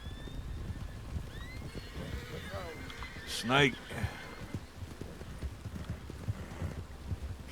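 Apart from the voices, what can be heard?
horse neighing and hooves clopping in WildRP, a Red Dead video game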